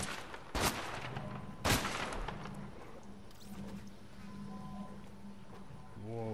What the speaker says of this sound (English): Somebody's shooting from far.